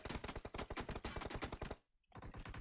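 Rapid automatic gunfire in a shooter video game, a loud fast rattle of evenly spaced shots that halts for a short moment and then resumes.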